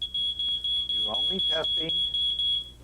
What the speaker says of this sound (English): Smoke detectors can be tested, but by testing it, pressing this button,